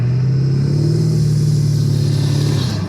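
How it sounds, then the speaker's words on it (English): An old truck engine drives over an icy road, a loud, steady low rumble that holds constant close by, easing slightly at the end. "Old truck sounds good."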